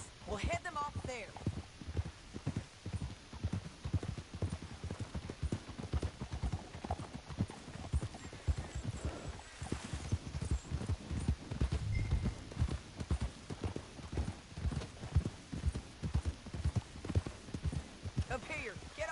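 Rapid clip-clop of horse hooves trotting steadily throughout in Red Dead Redemption 2, with a brief whinny and occasional voices mixed in.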